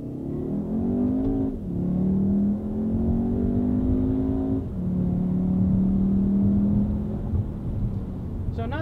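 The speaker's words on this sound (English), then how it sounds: "the turbo 4 in here actually makes an interesting noise" A 2012 Volkswagen GLI's turbocharged four-cylinder engine accelerates hard from inside the car, its drone rising steadily in pitch, dropping back at two gear changes and climbing again. The sound is loud, close and continuous.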